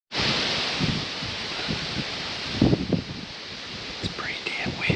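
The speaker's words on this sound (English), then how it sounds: "It's pretty damn windy." Strong gusty wind, around 20 mph, in Ohio hill country roars and buffets the microphone, with rustling bursts rising and falling, and a low murmur of speech partly buried underneath.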